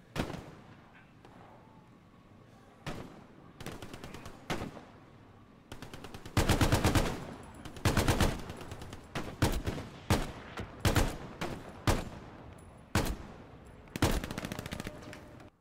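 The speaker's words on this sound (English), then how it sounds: "Someone just put a shot at me from the south." Bursts of gunfire in the WWII shooter Hell Let Loose, around the Driel bridge, with sharp single shots and rapid automatic volleys cracking out in irregular clusters against a low ambient rumble, growing louder and denser partway through.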